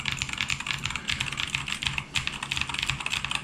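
Fast continuous typing on a Keychron K2 V1 mechanical keyboard with stiff switches, a close, crisp stream of clacky keystrokes in uneven bursts, heard alone without talk.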